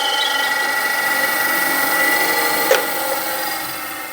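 A bandsaw running in a workshop, giving a steady, even whine and hum that holds throughout, with a brief click near the end.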